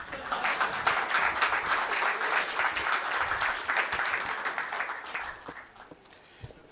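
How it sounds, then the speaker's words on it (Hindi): Audience at a Hindi kavi sammelan poetry event claps loudly, a full, lively round of many hands that fades in the final seconds with a few scattered claps. "बहुत कम ताली बजाई तुम लोगों ने मेरे आने पे"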